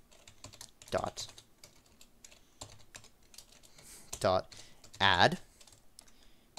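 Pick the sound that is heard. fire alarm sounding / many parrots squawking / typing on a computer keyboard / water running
typing on a computer keyboard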